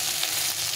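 Three or four pointed gourds (potol) frying in oil in a pan, a steady close hiss of sizzling throughout the brief moment.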